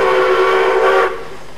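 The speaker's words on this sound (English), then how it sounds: "The shrill sound of train whistles could be heard all over Adelaide's northern suburbs this morning" Shrill steam locomotive whistle from a standard- and broad-gauge steam train race in Adelaide's northern suburbs, one loud sustained blast lasting about a second before dropping to a quieter tail.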